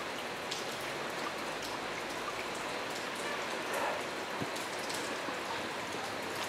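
Steady rain falls at a railway station on a mild, humid late-August day, a continuous soft hiss of drops on surfaces with no voices, even in level throughout.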